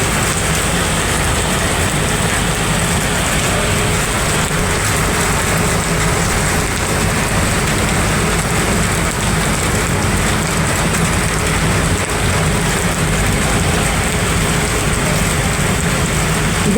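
Steady rain falls during a summer shower in Bangalore, a loud, unbroken hiss of constant intensity with a faint low rumble beneath and no talk.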